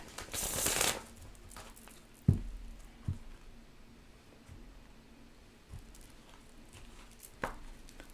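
A quick riffle of tarot cards being shuffled, followed by a few soft taps and rustles in a quiet room.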